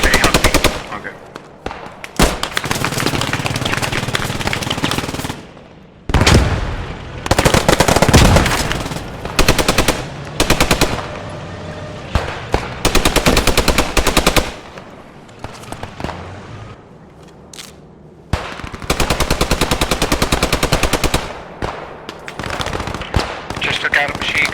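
Machine gun fire in the World War II shooter Post Scriptum, loud sustained rattling bursts broken by short pauses, with single gunshots and booms and voices talking over the fighting.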